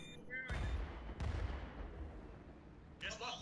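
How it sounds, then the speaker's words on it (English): Booming explosions go off in the Worms map of the golf video game Golf With Friends: two heavy blasts close together with rumbling decay, then another burst near the end, with voices talking over them. "Someone set off a bomb!"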